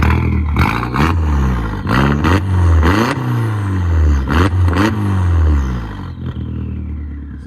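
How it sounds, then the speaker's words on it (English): A Volkswagen MK4 GTI with a fully straight-piped exhaust revs hard and close up, climbing and falling in repeated sharp bursts before settling back toward idle. "We'll give you guys a rev."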